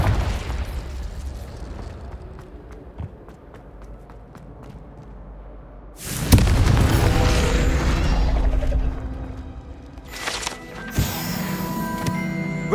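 In the Hogwarts Legacy game, a Confringo blasting spell erupts into a loud, sudden explosion midway through, followed by crackling debris and further smaller bursts over a quieter game soundscape.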